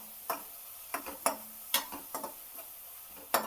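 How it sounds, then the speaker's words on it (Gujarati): A spoon stirs a spicy garlic and onion paste in a pan for Gujarati vagharelo rotlo, giving a handful of separate scraping clinks at an uneven pace, with a faint sizzle underneath. "આ પેસ્ટને આવી રીતે સરસ મિક્સ કરી દેવાનું છે"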